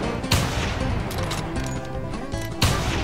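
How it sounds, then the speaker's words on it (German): Gunfire in The Hunter: Primal, a prehistoric hunting game, with two loud sharp shots near the start and end over a dense, busy game soundscape. "Oh, wir haben gleichzeitig geschossen."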